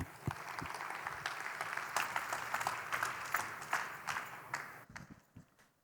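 Audience applause at a conference talk on Ethereum trustlessness, a steady spread of many clapping hands that holds for most of the clip and tapers to a few scattered claps at the end.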